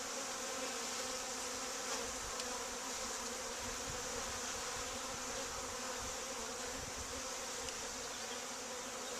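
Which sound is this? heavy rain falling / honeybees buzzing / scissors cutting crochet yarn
honeybees buzzing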